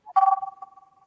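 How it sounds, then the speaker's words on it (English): A telephone rings once for an incoming call during a live online chat show. The short, clear electronic tone decays quickly, with no voices over it. "you got a phone call, guys"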